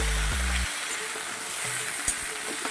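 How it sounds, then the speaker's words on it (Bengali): Katla fish head with mixed vegetables and ground coriander sautéing in a pan, a soft steady sizzle with a few stirring knocks and scrapes, no talking. "ব্যাস এবার সুন্দর করে আরো বেশ কিছুক্ষণ কষিয়ে নেব"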